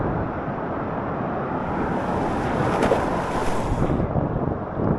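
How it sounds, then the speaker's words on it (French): Steady roar of ocean waves and rushing water, loud and continuous, with wind buffeting the microphone. "Les vagues sont assez conséquentes par ici."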